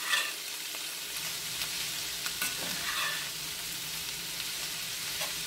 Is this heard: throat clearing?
no